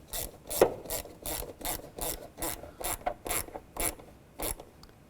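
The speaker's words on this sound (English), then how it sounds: "slide that in position, and tighten this worm clamp down" A worm gear hose clamp on a car air box of a 2005-2010 Chevrolet Cobalt is tightened, giving a close series of about a dozen rhythmic ratcheting clicks with no voices.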